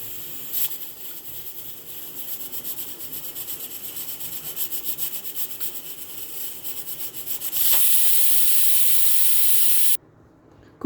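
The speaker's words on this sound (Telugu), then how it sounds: "ఇప్పుడు విజిల్ కూడా పెట్టుకుందామండి." A pressure cooker holding bitter gourd curry vents steam, a steady rough hiss with faint rhythmic pulsing that swells into a louder, sharper rush of steam for a couple of seconds, then cuts off abruptly.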